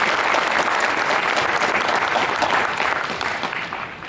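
An audience at a Megaplex Jeopardy event applauds, dense steady clapping from a crowd close by that fades slightly toward the end.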